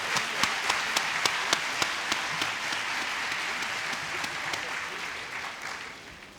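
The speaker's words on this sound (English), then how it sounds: "Could I have a round of applause for the quintet" Convocation audience applauding a quintet, a dense steady wash of clapping with a few sharper nearby claps standing out at regular intervals, fairly loud throughout and tapering slightly at the end.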